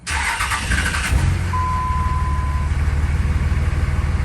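A diesel engine cranks briefly, catches and settles into a loud, steady rumbling idle close by.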